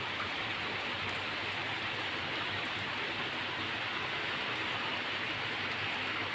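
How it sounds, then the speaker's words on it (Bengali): Dense, steady rain hisses evenly throughout, a continuous wash of noise without pauses or voices. "অনেক জোরে বৃষ্টি নামছে"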